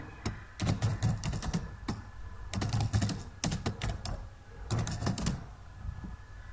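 Someone typing an SMS on a computer keyboard, in irregular bursts of rapid clicky keystrokes separated by short pauses, close up and fairly quiet.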